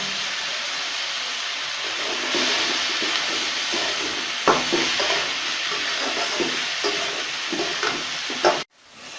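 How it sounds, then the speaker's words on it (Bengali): Beef tripe frying with spices in a pan, being stirred: a steady sizzle and hiss with repeated scraping stir strokes throughout, loud and close, cutting off abruptly near the end. "মশলাগুলো দেওয়ার পর ভালোভাবে সেটা নাড়তে হবে।"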